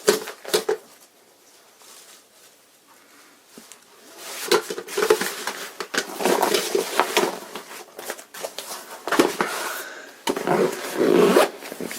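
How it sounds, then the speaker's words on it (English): The zipper on a Trangia stove kit bag being pulled closed, a series of rasping zip strokes of varying length with handling rustles and quiet gaps in between, close by. "Zip it up."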